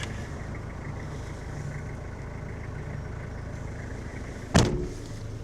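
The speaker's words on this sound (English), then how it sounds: "Old faithful 5L 3-liter diesel. Full mechanical." A Toyota 5L 3-liter fully mechanical diesel engine in a 2001 Toyota Camroad motorhome idles with a low, steady rumble, and a single sharp thump, like a door or latch, near the end.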